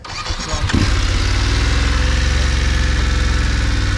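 A BMW adventure motorcycle engine cranks briefly and catches, then settles into a loud, steady, throbbing idle close by with no speech over it.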